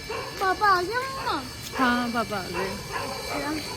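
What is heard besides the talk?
dogs barking in the street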